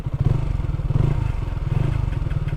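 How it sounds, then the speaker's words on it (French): A Duke 125 motorcycle with a weak battery idles very low, giving a close, loud, uneven low chugging with a rapid pulsing rhythm and slight mechanical clatter. "Le ralenti est très très bas."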